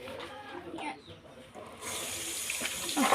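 Tap water runs into a sink while a t-shirt soaks, a steady splashing wash that swells louder in the second half, with faint talk underneath early on.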